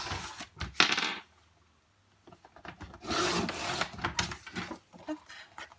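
Paper being cut to trim a mini folio cover 1 mm from the edge, heard as close scraping and rasping strokes in a few bursts separated by a quiet gap.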